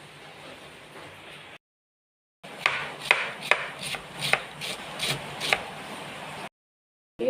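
Knife chopping tomatoes and onions on a board, a run of about eight crisp, evenly spaced chops close by over steady background hiss, with no talk.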